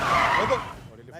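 A car skids to a sudden stop on a road in an Indian action film scene: a loud broadband tire screech that fades over about a second, with voices around it.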